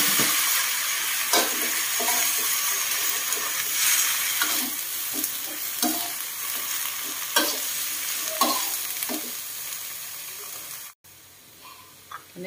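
A full wok of onion flowers and pork liver stir-fried with a little water, with a continuous sizzle and repeated scraping and knocking strokes of the spatula at an uneven rhythm, then a brief cut near the end.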